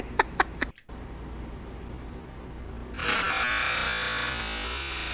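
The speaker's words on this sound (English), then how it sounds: "Don't start the vacuum. No need for the vacuum. Do not start the vacuum now." A household vacuum cleaner switches on after a few sharp clicks and a brief pause, its broadband whine rising and then holding steady nearby, with no talking over it.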